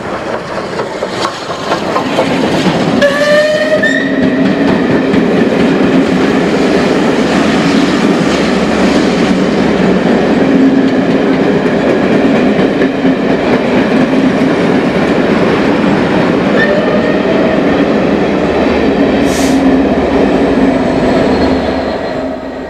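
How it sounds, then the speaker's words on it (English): A West Country Pacific steam locomotive running through Maidstone East gives a loud, steady rumble of a passing train with rhythmic wheel clatter and a faint whistle-like squeal, sustained throughout. "this West Country Pacific made a spirited run through Maidstone East"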